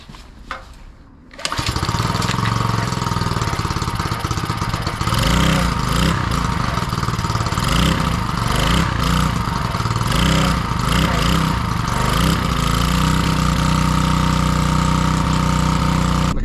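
A small garden machine's engine, hard to restart and often needing several pulls, catches after a short quiet stretch and then runs loud and steady, with a rough, pulsing idle that carries through to the end.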